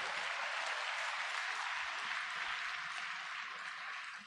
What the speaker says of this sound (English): Thanks again, and a big round of applause to Dr. Zakir Naik